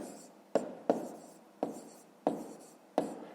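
Chalk or marker strikes a board in five separate sharp taps and short strokes as math is written up, each one close and distinct against a quiet room.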